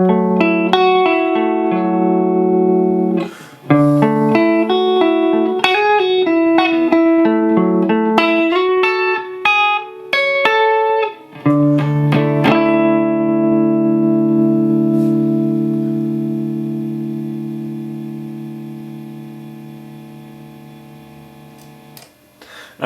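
Electric guitar with a single-coil pickup played through a 4114 Trim Thing compressor pedal: picked notes and chords with an even, long-sustaining final chord that fades slowly, close and clean, with no talking.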